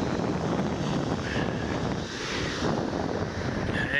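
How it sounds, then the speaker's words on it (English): Strong, steady wind buffets the microphone on an overcast Tasman Sea shoreline in Victoria, a loud continuous roar with faint surf mixed beneath and no voices. "And yes, it is a very windy day today."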